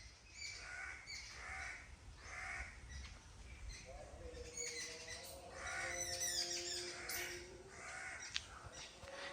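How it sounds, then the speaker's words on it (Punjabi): Crows cawing and other birds calling among trees in a quiet, green spot near a shrine: repeated rough caws and chirps, faint and somewhat distant, over a soft outdoor background. "ਕਿੰਨੇ ਭਾਂਤ ਭਾਂਤ ਦੇ ਜਾਨਵਰ ਬੋਲੀ ਜਾਂਦੇ"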